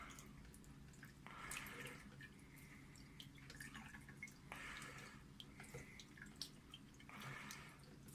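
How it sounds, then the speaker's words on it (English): Water is poured over a telescope mirror in a sink, giving faint repeated bursts of splashing and trickling that come in three separate pours with quieter dripping between them. "the mirror now is in the sink, and"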